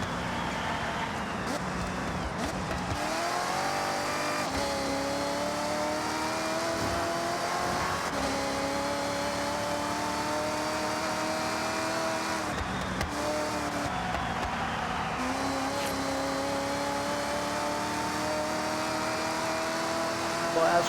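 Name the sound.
car engine revving in Forza Horizon 6 video game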